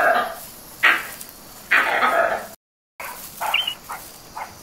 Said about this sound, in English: The barking deer calls, like a scared dog.